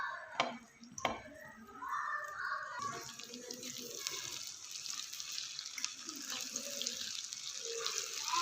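Cut okra (bhindi) dropped into hot oil for a dhaba-style masala bhindi, setting off a loud, steady sizzle that starts with a few clattering drops and then fills in with dense frying hiss.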